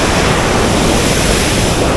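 Water rushing hard at Gadheshwar dam near Panvel, a loud, continuous broadband roar with wind buffeting the microphone, steady throughout with no talking.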